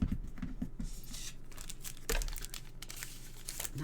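Cardstock being cut for a handmade dragonfly garden card, with crisp rustles, crinkles and a sharp slicing stroke near the middle, close and fairly quiet without talk.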